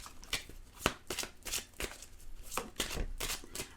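Tarot cards shuffled and drawn by hand, a quiet, close series of soft riffling slaps and flicks in an irregular rhythm, about a dozen light strokes without any voice.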